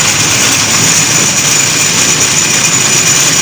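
A village machine's engine runs steadily and loudly in rural Punjab, a continuous droning hum with no breaks, heard alone with no voices.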